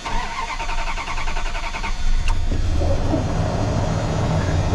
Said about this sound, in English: let's see if this thing fires up and if it will idle